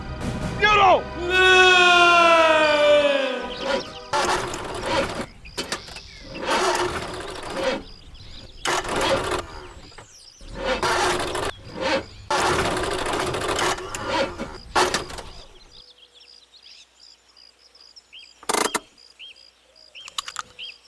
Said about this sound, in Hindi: अरे मैडम, कुछ खराब होने जैसी आवाज आ रही है।